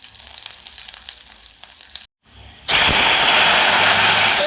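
After a moment of quiet, a sudden loud sizzle erupts as mustard seeds, garlic, dried red chilies and cumin hit hot oil in a pan for rasam tempering, crackling and hissing steadily close by.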